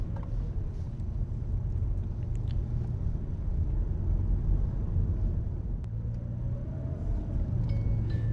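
An automatic car driving on Australian roads, heard from inside the cabin as a steady low engine and road rumble that stays even throughout, with a faint click midway.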